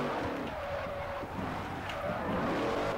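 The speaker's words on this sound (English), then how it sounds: "I am just drifting off here, baby." A 700-plus horsepower Dodge drifts in Forza Horizon, its engine droning steadily at close range with tire squeal mixed into the continuous roar for the full stretch.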